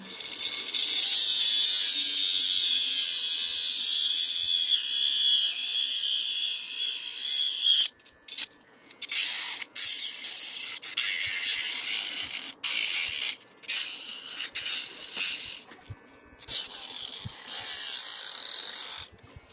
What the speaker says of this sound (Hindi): ये आ गया हमारा गियर रोटेशन में और हम अब करते हैं इसकी कटिंग।